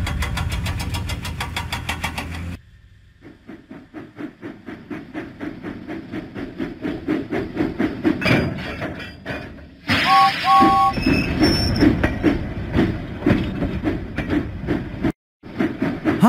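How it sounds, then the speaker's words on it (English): Toy steam engine from a Thomas & Friends video game chugging along, with a steady rhythmic puffing beat that speeds up over time, brief pauses, and a short two-tone whistle midway, under soft game music. "Huffing and puffing, James set out for the diesel works"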